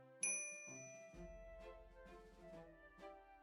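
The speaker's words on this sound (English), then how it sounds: "Haneda keeps glancing over at her and ringing his bell" A customer at a video-game cafe rings a small service bell, one bright ding with a lingering ring, followed by softer chiming tones over background music.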